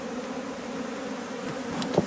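A steady, dense buzz of many bees around honey frames during a honey harvest in Zimbabwe fills the whole stretch, close and continuous, with a brief louder bump near the end.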